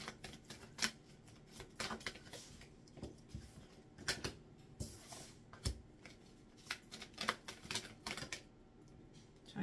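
Playing cards being handled and riffled in a deck, giving quiet bursts of papery clicks and flutters in irregular spurts, close and fairly soft, with no talking.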